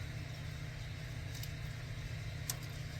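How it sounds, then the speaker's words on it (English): Air conditioner cranked all the way up on a hot day, a steady low rumbling hum with broadband hiss running continuously, fairly faint and even, with no talk. "You have to excuse the noise from the air conditioner."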